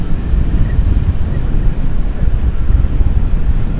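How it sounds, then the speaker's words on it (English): Atlantic Ocean surf at Miami Beach washes in a constant low roar, mixed with gusty wind buffeting close against the microphone. "But here's the Atlantic Ocean"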